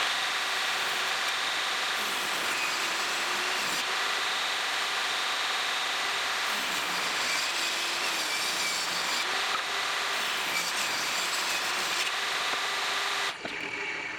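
A Vevor table saw fitted with a new, sharp carbide-tooth blade rips through wood, producing a loud, steady, continuous whine and rasp that cuts off abruptly near the end.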